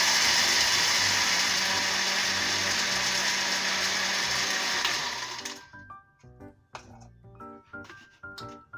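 An electric chopper grinds sugar into caster sugar, a loud steady whir for about five seconds, then the motor stops and granules rattle and tap in short bursts.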